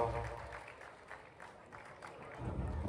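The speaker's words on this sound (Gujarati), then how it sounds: "તો આપણે એને તાળીઓના ગણગણાટથી વધાવીએ મિત્રો" Crowd applause at an outdoor Gujarati Lok Dayro folk performance welcoming journalist Jagdishbhai Mehta: a steady, distant clatter of many clapping hands that swells louder near the end, with a voice faintly underneath.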